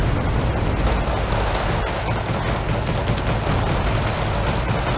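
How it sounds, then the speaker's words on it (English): A Cobra attack helicopter fires TOW missiles and rockets in a Cold War tank strategy game, heard as a continuous roar of launches and distant blasts, loud and sustained throughout with no pauses. "Cobra's firing his tow missiles"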